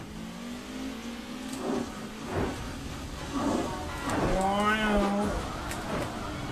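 A video-game taxi engine revs up and down in rising and falling whines as the car drives and drifts, with someone talking over it throughout.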